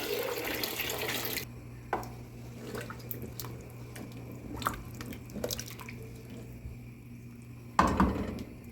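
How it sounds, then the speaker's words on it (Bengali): Lukewarm water pours into frying rice in a brief rushing splash, then stops, leaving scattered drips and small clinks against a quiet background hum. "এখন এর মধ্যে আমি দিয়ে দেবো দেখুন কুসুম গরম পানি"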